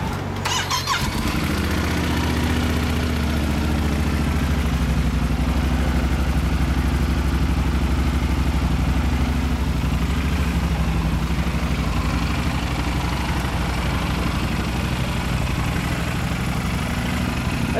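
A Honda Goldwing F6C 1800 motorcycle engine cranks and catches with a sharp start, then settles into a loud, steady idle that runs on evenly and close by.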